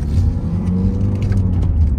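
A 2016 Volvo V60 2.0 D3 SE diesel estate car driving on a road at 62,200 miles, heard from inside as a steady low engine drone and road rumble with mild tyre noise, no talking.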